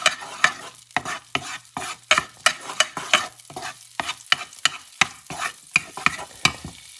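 Onions sizzle in a pan on medium-high heat while a utensil stirs them, giving regular scraping strokes about twice a second over a soft, steady frying hiss, close and clear, with no talking.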